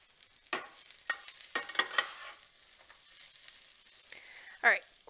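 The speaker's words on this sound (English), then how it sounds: "All right, we're throwing in the broccoli and the carrots." Broccoli and carrots for pad thai are thrown into a hot pan and stir-fried, making a series of sharp sizzling bursts and scrapes with a louder hiss near the end against a low background.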